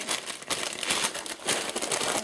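Corn chips tumble and crinkle in a continuous dry, crackling rush while being poured and spread over mince for a taco pie, close up and without talk.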